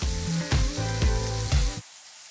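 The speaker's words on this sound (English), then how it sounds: "I'm grilling indoors." Red and green peppers with onions cooking on an indoor electric grill, giving a steady loud sizzle with a few rhythmic pulses that cuts off near the end.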